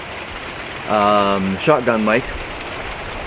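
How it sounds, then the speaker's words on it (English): The first rain in weeks falls as a steady, close hiss throughout, with a person briefly speaking over it midway. "this is the first rain in weeks"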